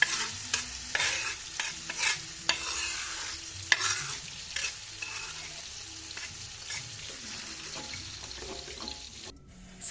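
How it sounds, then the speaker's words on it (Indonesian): Ground sambal terasi frying in a little oil, with a steady close sizzle and repeated scraping stirs, plus brief clatters, without talk. "Lalu digoreng lagi dengan sedikit minyak"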